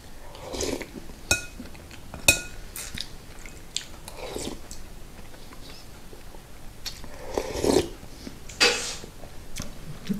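A person eats borscht with garlic and salo, with close, intermittent chewing and biting along with occasional light clinks of a spoon against a dish, and no speech over the eating.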